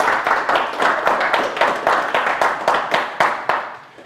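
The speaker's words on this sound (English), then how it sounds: "Let's give me all a round of applause, yes?" A round of applause from a live audience: dense, steady clapping from many hands with soft rhythmic swells, close and fairly loud throughout, trailing off slightly at the end with no talking.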